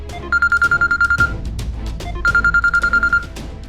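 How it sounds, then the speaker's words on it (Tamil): A phone rings with an incoming call in two loud bursts of rapid electronic trilling tones, each followed by a short gap, heard close and clear over a faint low background. "அத்தை தான் ஃபோன் பண்றாங்க."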